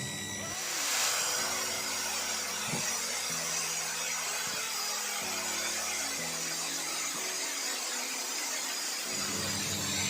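A DCK KZJ16 impact drill runs at its highest speed with a steady, loud motor whine and hum. Brief dips and restarts break the sound into segments over about ten seconds.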